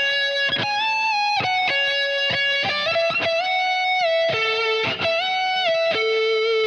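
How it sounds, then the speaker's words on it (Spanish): Distorted electric guitar from a solo, playing sustained notes that bend up a half step and drop back down, with several repeated bend-and-release phrases picked in sequence, loud and up close with no talk. "Es un bend and release."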